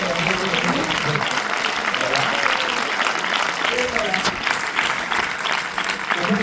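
Audience applause at a film screening with the film team present, a dense, sustained wash of clapping that stays loud and steady throughout, with some voices mixed in.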